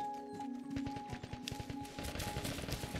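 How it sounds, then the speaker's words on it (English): A burst of rapid gunshots, several sharp cracks in quick succession, followed by more scattered shots over a faint steady tone, in an extraction shooter video game, coming from a bed and breakfast. "I heard several gunshots coming from a bed and breakfast"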